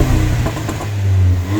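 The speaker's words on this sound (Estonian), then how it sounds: "see popcorni värk selle mootori ja summuti ehituse poole pealt nüüd ei ole nagu nii valjusti kuulda, et ta on kuulda, aga hästi-hästi õrnalt" A tuned Audi A3 engine revs with a popcorn exhaust, giving a loud, close, rising mechanical drone with soft, subtle crackling pops and no talk.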